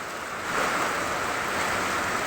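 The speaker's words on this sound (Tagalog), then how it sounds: "sobrang lakas ng ulan" Steady, dense rush of heavy typhoon rain, a continuous broadband hiss that swells slightly after the first half second and holds without pause.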